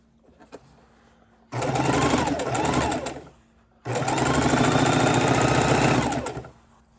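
A sewing machine runs in two steady bursts of rapid stitching through quilt fabric, loud and close, with a short pause between them.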